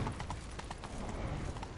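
The horse Roach galloping in The Witcher III, a fast rhythmic clip-clop of hooves, close and steady throughout a short burst.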